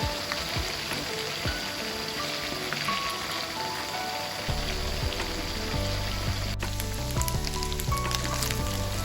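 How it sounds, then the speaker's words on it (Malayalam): Chicken pieces fry in a pan for chilli fried rice, giving a continuous soft hiss of bubbling oil. A low hum sits underneath and grows heavier about halfway through. "ഇപ്പോൾ നമ്മുടെ ചിക്കൻ നന്നായിട്ട് ഫ്രൈ ആയി കിട്ടിയിട്ടുണ്ട്."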